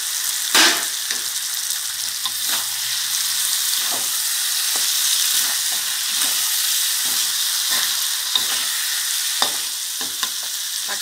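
Pumpkin stir-fried with egg and basil leaves in a hot pan sizzles loudly and steadily. A utensil scrapes and clatters in frequent, irregular strokes close by, and nobody speaks.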